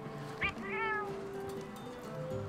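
A cat meows a few times in Monster Hunter: World, a short mid-pitched call followed by a softer chirping cry over quiet game background noise.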